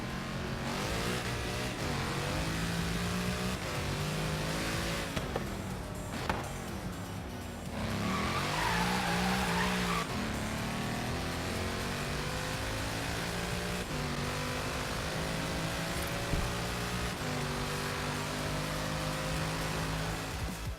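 A sports car in Forza Horizon 3 revs hard and climbs through its gears, with a loud tire squeal in the middle of the run and the engine droning steadily throughout.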